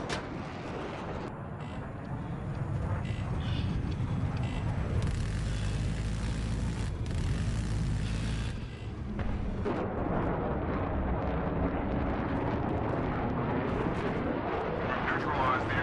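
A hostile jet roars past in a multiplayer military shooter, a loud sustained engine rush blended with distant booming gunfire and explosions, with players' voices talking over the din.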